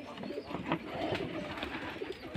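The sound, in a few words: Rajshahi Giribaj pigeons cooing at a pigeon farm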